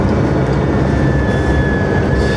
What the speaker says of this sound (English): It is spooling hard.